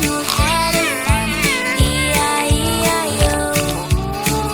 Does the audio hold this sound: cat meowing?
yes